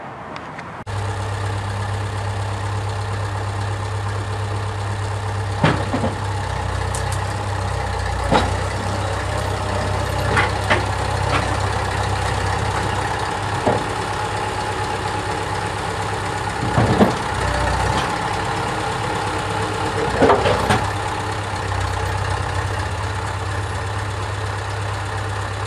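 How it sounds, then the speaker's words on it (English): A tractor engine starts and settles into a steady, low, rumbling idle, loud and close, with occasional clanks and knocks over the drone and no talk. "let's go get the tractor fired up"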